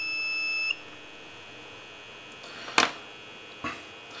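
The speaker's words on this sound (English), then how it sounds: "But now there is a beep coming out of it" A Capacheck Mictron analog ESR meter gives a short electronic beep, followed by a sharp click and a second fainter click, close and otherwise quiet.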